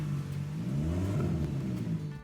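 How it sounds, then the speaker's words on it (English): A throaty car exhaust rumbles and revs nearby, its deep tone rising and falling with a raspy, aggressive edge. "once they came back they said that it now sounds like a rally car"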